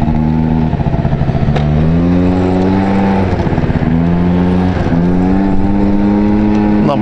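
A Honda Dio 27 scooter engine buzzes steadily while riding, its pitch rising and falling as the throttle changes, with whooshing wind noise close to the mic.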